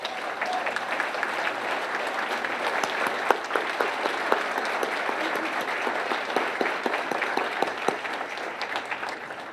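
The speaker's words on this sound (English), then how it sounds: "please stand up and have a round of applause" An audience at an arts and humanities awards ceremony gives loud, sustained applause, with many hands clapping densely and evenly for the whole stretch and no speech over it.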